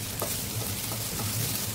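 Chillies and cashews sauté in a hot pan for a shahi paneer gravy, with a steady close sizzle of frying oil and a few soft stirring sounds.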